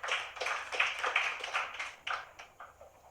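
Scattered, fairly faint applause from a debate audience, claps overlapping unevenly for a few seconds before thinning out near the end.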